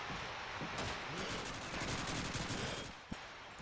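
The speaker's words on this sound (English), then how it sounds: "Bullets pinging over to MG house." Gunfire and bullets pinging in the Call of Duty 2 video game make a dense, continuous rattle of rapid automatic shots. The rattle is fairly faint and fades toward the end, where a single sharp crack stands out.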